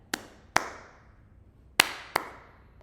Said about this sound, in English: or you can start with a clap.